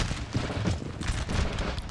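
Massed musket volleys from a Napoleon: Total War multiplayer battle crackle continuously, a dense, rolling fusillade of overlapping gunfire with no clear gaps, steady and fairly loud throughout.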